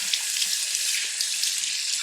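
Water runs steadily from a tap as self tanner is washed off skin at a sink, a continuous close hiss of flowing water with faint splashing and no talking.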